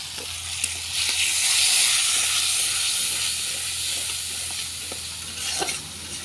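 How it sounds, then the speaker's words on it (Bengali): Fish sizzles in a pan as ginger-garlic paste goes in, giving a steady close hiss of frying with a few light clinks of stirring and no talking. "এই যে আমি আদা রসুনটা দিব মাছে আর কি।"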